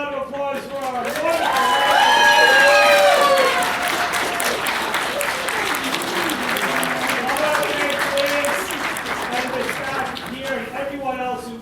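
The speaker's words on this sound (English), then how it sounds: "Let's give a round of applause for our wonderful." Audience applause at an April Fools debate event, a round of clapping and crowd noise swelling early then holding steady, with a voice speaking over the tail end.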